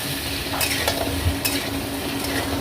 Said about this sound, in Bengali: এবার খুন্তি নিয়ে একটু নাড়াচাড়া করার পালা